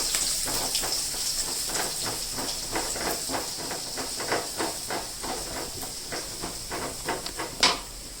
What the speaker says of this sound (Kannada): ಸ್ವಲ್ಪ ಶುಂಠಿ ಹಾಕ್ತಾ ಇದ್ದೀನಿ, ಹಸಿಮೆಣಸಿನ್ಕಾಯಿ ಹಾಕ್ತಾ ಇದ್ದೀನಿ. ಸ್ವಲ್ಪ ಫ್ರೈ ಮಾಡಬೇಕು